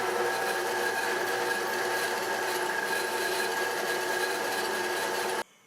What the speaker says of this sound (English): Now we drill a hole in the tang for the pin that we're going to put in later.